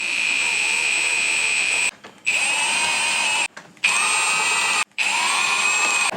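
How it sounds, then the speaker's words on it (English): A power tool tightens bolts on a differential and pin yoke reassembly. It gives a loud, steady high whine in three sustained bursts, each ending briefly before the next, close by with no talking. "Tighten these down to 30 foot-pounds."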